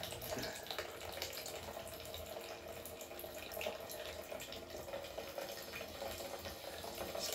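Water streaming through a Katadyn BeFree collapsible gravity filter into a container, a steady close trickle and splash running without pause and without speech.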